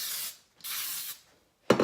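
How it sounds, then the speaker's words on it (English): Cooking spray hissing from a can onto parchment paper in a kitchen, two separate short bursts followed by a sharp rustling knock, no talk. "So I'm gonna go ahead and spray them down in just a second."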